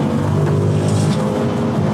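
Engine of an Audi RS4 B7 with coilover suspension, heard from inside the car while driving: a loud, steady, droning engine note with continuous road rumble, no talk.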